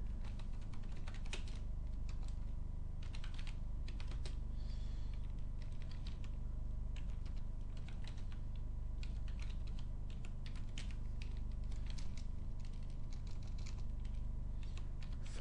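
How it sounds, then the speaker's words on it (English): Rapid typing on a computer keyboard, a quiet, irregular patter of key clicks running the whole time over a low steady room hum, with no talk. "Now here we'll type our domain name."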